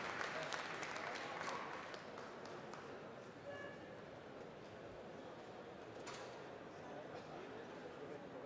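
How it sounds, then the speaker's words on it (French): A cooking contest audience claps for two competing winegrower-cooks at the 2013 Meilleur Vigneron Cuisinier event: steady, distant applause from a hall crowd, slightly louder at first and then holding level throughout. "On applaudit Pierre Mollier et Philippe Benoît une dernière fois, s'il vous plaît"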